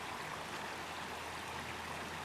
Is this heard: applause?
no